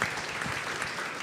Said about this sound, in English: I'd invite you to give Dr. Gyan a round of applause